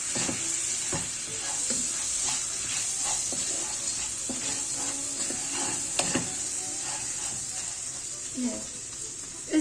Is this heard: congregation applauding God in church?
no